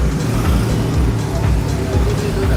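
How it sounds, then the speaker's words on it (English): A garbage truck rumbles past on an early-morning Pattaya street, a loud, low, steady engine drone that fills the whole moment amid street traffic. "Wait for the dust car to come past."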